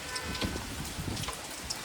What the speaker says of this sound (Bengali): ঝমঝম করে বৃষ্টি পড়ছে, মেঘ ডাকছে, বিদ্যুৎ চমকাচ্ছে